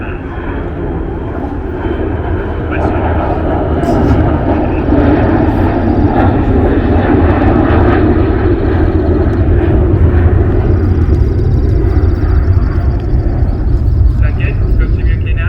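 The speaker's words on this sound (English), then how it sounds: "Can you folks hear me okay with the plane?" A fixed-wing airplane drones overhead near a riverboat in Fairbanks, Alaska, a steady broad engine roar that builds after a few seconds and holds loud throughout, with no talk over it.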